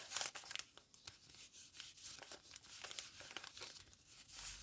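Close, crisp crinkling and rustling of a thin paper or foil packet, with irregular crackles and small tearing sounds throughout.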